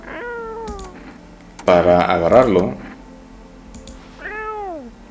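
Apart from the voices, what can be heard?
cat meowing in the video game No I'm Not Human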